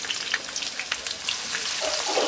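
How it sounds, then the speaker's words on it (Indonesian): Shallots, garlic and chili hit hot oil in a wok, giving a bright, crackling sizzle with scattered pops throughout, steady and close, building slightly toward the end. "kita masukkan terlebih dahulu bawang merah, bawang putih, dan juga cabenya"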